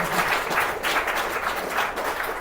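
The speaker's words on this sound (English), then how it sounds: "let's give one more round of applause to Skyler Trepel" Audience applause for author Skyler Trepel at a book event, a steady dense wash of clapping from a crowd lasting the whole stretch, moderately loud and without talk over it.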